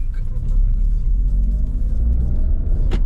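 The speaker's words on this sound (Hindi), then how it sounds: "कुछ इस तरीके से जो है ये गाड़ी स्टार्ट होती है" A Tata Punch car engine rumbles loudly and close, a low steady idle with a slight rise as it pulls away, carrying on for a few seconds with no talking.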